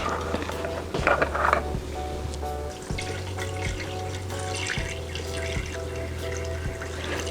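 Water runs and splashes into a cooking pot while goat caldereta is prepared, a trickling, gurgling pour over a low electrical hum, fairly close and moderately quiet.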